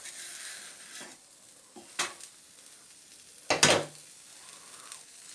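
Lahmacun (Turkish pizza) cooking in a pan, a faint steady sizzle with a few sharp pan or lid clatters, the loudest near the end, and no talking.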